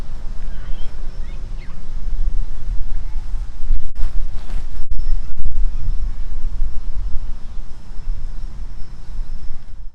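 Strong headwind buffeting the microphone outdoors on a disc golf field, a loud continuous low rumble with gusty swells throughout and brief breaks where the wind lets up.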